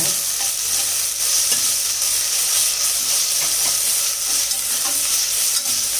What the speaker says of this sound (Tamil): சேர்த்து நல்லா வதக்கி விடுங்க.